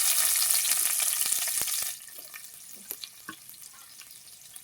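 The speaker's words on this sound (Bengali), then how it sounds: "পেঁয়াজটাকে লাল লাল করে ভেজে নেব।" Onions frying in a pan with bay leaf pieces, a loud bright sizzle that suddenly drops to a quieter crackle with scattered pops and faint stirring clicks.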